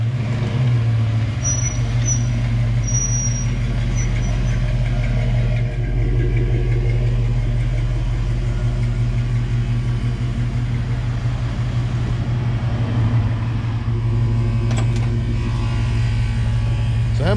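An International Scout with a 4-inch lift rumbles steadily at low idle nearby, a constant deep engine drone with a couple of brief high chirps early on and some faint voices.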